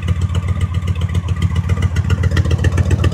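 A 2005 Honda Shadow Spirit VT750 with an aftermarket exhaust revs steadily up close, its throaty, pulsing engine note loud and continuous with no voices.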